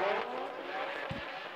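Drift cars at an RDS GP drift race in Ryazan roar continuously as they accelerate, a loud sustained engine and tire noise with a brief low thump midway.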